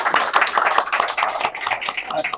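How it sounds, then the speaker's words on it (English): Applause from an audience at a business networking gathering, a dense steady patter of many hands clapping close by for about two seconds, with a faint voice underneath. "another round of applause for our host"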